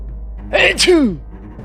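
A loud cartoon-style sneeze bursts out in a quick two-part gasp and blast, voiced by a performer imitating the sound, with a sweeping falling tone at the end.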